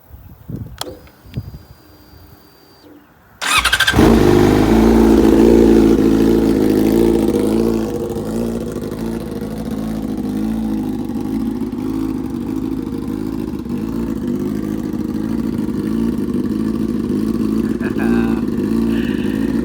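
A 2007 Yamaha R6S sport bike warms up after a few faint clicks: the engine catches with a loud rev, then settles into a steady, slightly lower idle that holds to the end.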